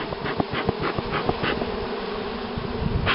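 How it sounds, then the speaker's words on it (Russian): Honeybees from a drone-laying colony swarming on a board beside a hive, a loud, close, continuous buzz with individual bees darting past in brief louder pulses. "Так, сейчас загоню. Загоню кучу пчел этих вот"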